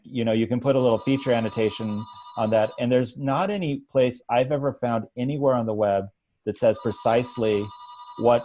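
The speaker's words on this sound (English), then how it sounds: "that's the phone in my background." Telephone ringing in the background of a webinar, a repeated electronic bell tone in steady bursts beneath someone talking continuously up close.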